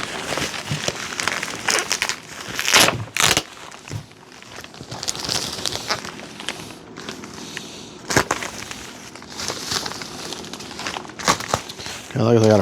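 Plastic bag and bubble wrap crinkle and rustle while a Dynam ME 262 V3 RC jet is unboxed, irregular close crackling bursts and sharp handling knocks scattered across the stretch, with someone talking intermittently.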